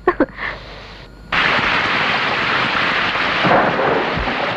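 Thunderstorm with rain: a couple of sharp knocks open, then a sudden heavy roar of downpour and rumbling thunder starts and continues loud and steady, up close.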